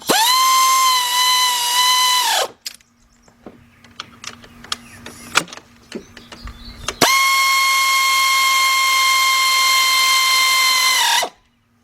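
A ratchet with a 4-inch extension and 10mm deep 3/8-drive socket drives bolts during a car water pump replacement: two loud, steady high motor whines bracketing a quieter stretch of clicks and metallic taps.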